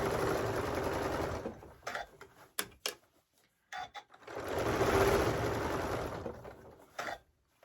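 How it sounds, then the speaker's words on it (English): Home sewing machine stitching fabric along a chalk line for a lined drawstring mini backpack, running in two long steady bursts with short pauses and small mechanical clicks between them, close and fairly loud. "I am actually going to sew around. I'm just following that chalk line"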